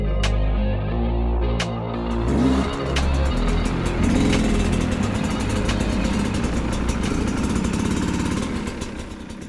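A 2022 Sherco 250 SE Factory dirt bike engine runs steadily close by, a loud rough buzzing with ticking revs that slightly rise and fall, with no talking, snowy northern Ontario setting.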